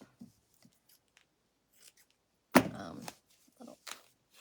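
Scissors cut through old blue jeans denim, a sharp snip and tearing run near the middle, with scattered faint handling noises around it.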